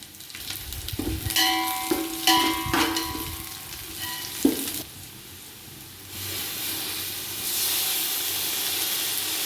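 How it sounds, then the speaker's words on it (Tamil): Chopped onions and three slit green chillies sauté in a pan for chicken biryani, a steady frying hiss with scraping stirs, a clank near the middle and a louder sizzle building toward the end; no talking. "வெங்காயம் நல்லாவே வதங்கிருச்சு. இந்த ஸ்டேஜில் ஒரு 3 பச்சை மிளகாயை கீரி போட்டிருக்கேன்."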